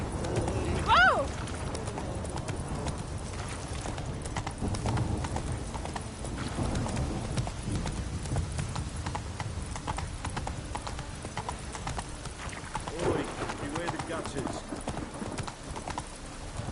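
Roach, Geralt's horse in The Witcher 3, gallops with rapid, steady hoofbeats clip-clopping throughout, a brief whinny near the start, and voices talking over the running hooves.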